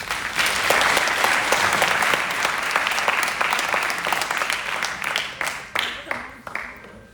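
Loud, sustained audience applause fills a hall at a Model United Nations closing ceremony, dense clapping holding steady before thinning out and trailing off toward the end.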